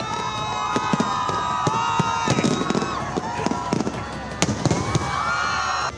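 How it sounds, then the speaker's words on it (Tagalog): New Year fireworks in Western Visayas, Philippines, pop and crackle in rapid, irregular bursts in the sky while a crowd cheers and shouts nearby, voices rising over the booms. "nakitaan ang madinuagon nga fireworks sa kalangitan"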